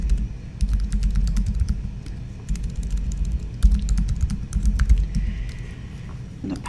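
Someone types an email address on a computer keyboard with quick, irregular keystrokes and short pauses, close and clear with no voices.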